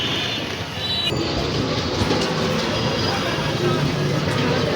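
Rumbling train noise at a railway crossing at sunset, steady and fairly close, with a sharp clank near the start and faint background chatter.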